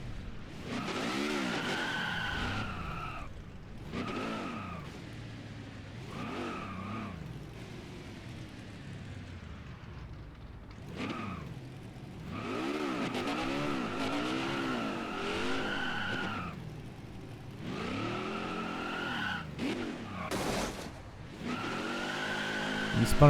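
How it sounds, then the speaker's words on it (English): In a modded NASCAR Heat 5 race at Indianapolis with the engine blown, a simulated stock car does a burnout, with repeated squealing tire skids and revving bursts coming in waves over about twenty seconds. "As we complete this epic burnout."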